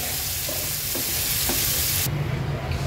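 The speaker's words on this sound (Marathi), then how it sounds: "गॅसची फ्लेम लो करून हा कांदा छान मऊ होईपर्यंत शिजवून घ्यायचा आहे" Chopped onion with two green chillies frying in a pan over a low gas flame, making a constant close sizzle with faint stirring scrapes and no talk.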